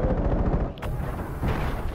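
Video game gunfire from an assault rifle against a single-shot shotgun, a fast rattling burst, a brief pause with a sharp crack, then more rapid shots, loud and close.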